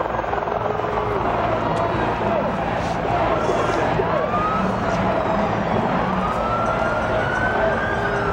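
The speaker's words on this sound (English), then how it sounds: "the sound of a siren in Washington, which we hear outside our location now" Emergency siren outside in Washington during inauguration-day protests, wailing with rising sweeps under a dense roar of crowd and street noise, with voices talking over it.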